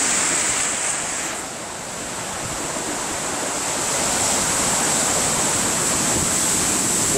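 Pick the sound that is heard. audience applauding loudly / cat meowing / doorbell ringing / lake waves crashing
lake waves crashing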